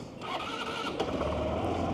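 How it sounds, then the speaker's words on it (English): A scooter engine cranks and catches, starting up and settling into a steady idle, close and moderately loud with no talking over it. "And engine start."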